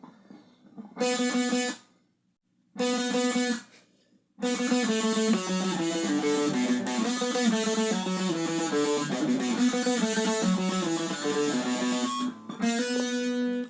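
Electric guitar plays the main riff of a song alone: two short bursts separated by pauses, then a sustained run of picked notes that continues to the end.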